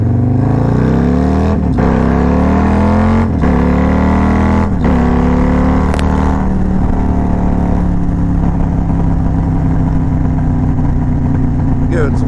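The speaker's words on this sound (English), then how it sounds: "Give it some good old exhaust pops." A loud Harley motorcycle engine rumbles and revs, with sharp exhaust pops and crackles breaking through at a few points as the throttle rolls off.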